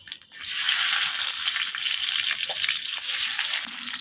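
Bay leaf and five-spice tempering sizzle steadily in hot mustard oil, a close, continuous hiss of frying that holds evenly after a brief start, with no talking.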